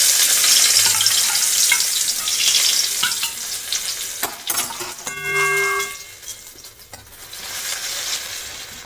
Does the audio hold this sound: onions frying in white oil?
yes